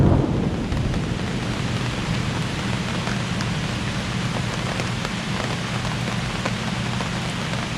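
Steady heavy rain pattering on a camp canopy outdoors in north Georgia, with a low rumble of thunder at the start, a constant close wash of drops and no voices.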